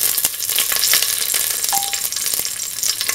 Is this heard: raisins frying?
yes